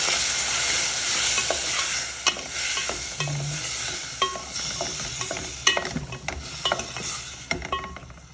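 A milkfish stew for tinola being stirred in a pan, with steady sizzling and repeated scrapes and clinks of the utensil against the metal.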